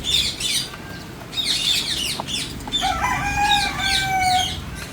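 A flock of hungry birds calls continuously nearby, a mix of clucks, chirps and drawn-out squawks, with some wing flapping.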